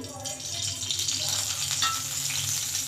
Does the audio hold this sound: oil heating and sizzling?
yes